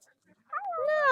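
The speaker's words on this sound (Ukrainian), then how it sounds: "Це наша собака наших друзів" A single high, drawn-out whine from a blue-eyed farm dog rises close by after a few faint rustles.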